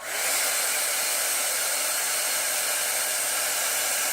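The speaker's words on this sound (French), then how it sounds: "Je vais faire le test du bruit avec vous. Je trouve qu'il est un petit peu bruyant." A UKLISS 1000W 5-in-1 hair dryer and air curler runs steadily at close range, giving a loud, even, hissing blow that holds at a constant level from start to finish with no talking.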